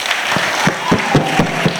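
Applause from a school audience at the final of an inter-school competition, sounding as a steady wash of clapping with a few sharper hand claps standing out, moderately loud and without talk.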